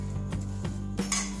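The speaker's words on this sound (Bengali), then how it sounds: "গ্যাসে কড়াই বসিয়ে দিয়েছি," A kadai is set down on a gas stove while coconut naru with jaggery is being made, giving a few close metallic clanks and scrapes spaced about a third of a second apart, with a quiet kitchen hum underneath.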